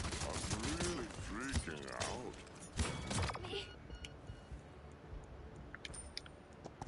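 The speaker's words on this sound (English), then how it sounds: "They're shooting you." Rapid bursts of weapon fire and mechanical clanks from the Paladins video game crackle in the background while players talk excitedly over the action, with sharper shots popping near the end.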